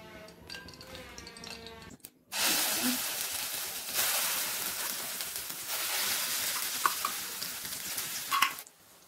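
A bowl of ground poppy seed paste hits hot oil in a pan and erupts into a loud, steady sizzle that lasts several seconds, after a short stretch of quieter sound with a voice at the start.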